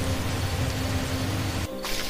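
Rain falls in a cartoon ghost story scene, an even, steady hiss of downpour that briefly cuts out near the end.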